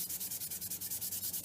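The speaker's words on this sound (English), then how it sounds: "wet sanding done" Rhythmic wet sanding of a wooden redbud vase with brass inlay: steady back-and-forth rubbing strokes, about a dozen evenly spaced, soft and close, with no other sounds.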